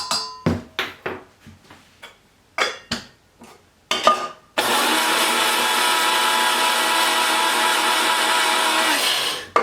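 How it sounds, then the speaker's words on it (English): Coffee grinder grinding two tablespoons of chia seeds, starting after a few sharp taps and clatters of seeds and lid handling, then a loud steady high whirring buzz for about five seconds that cuts off abruptly. "Now I have my coffee grinder here, and I'm going to add in 2 tablespoons of chia seeds."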